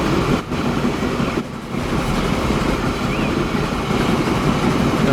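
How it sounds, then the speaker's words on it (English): In the game Transport Fever 2, a train rolls along the rails with a steady, loud rumble. Two brief dips break the noise before it carries on unbroken. "The first train is rolling down the line."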